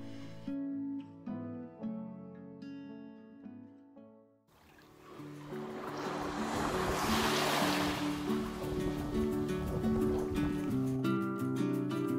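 Surf rolling onto a South Australian beach, a steady broad wash of waves rising after a quiet start and holding loud and continuous, with music heard over the opening seconds.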